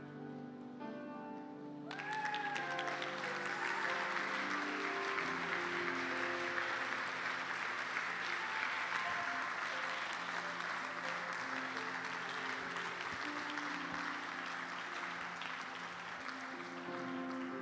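A church congregation bursts into applause during a pastor's service. After about two seconds of quiet, dense sustained clapping fills the room over soft held music notes and stays steady and full to the end.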